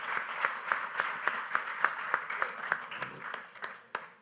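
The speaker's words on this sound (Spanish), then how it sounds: "Por favor, un aplauso para que se sientan arropados." Rhythmic clapping from an audience at a talk on teamwork and collaboration, fairly quiet with distinct, evenly spaced claps standing out over a softer wash of applause.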